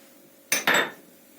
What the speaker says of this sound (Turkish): 2 çorba kaşığı un, çırpma teli yardımıyla güzelce karıştırıyorum.